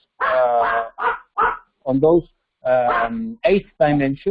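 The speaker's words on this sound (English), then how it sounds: "What you hear now is my dog barking." A dog barks in the background of a home office, several sharp barks in quick succession, mixed in with someone talking in an online presentation.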